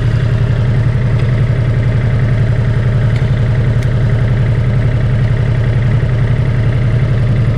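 Ducati Multistrada motorcycle engine idling while warming up, a loud, close, steady low throb that holds even throughout with no talk.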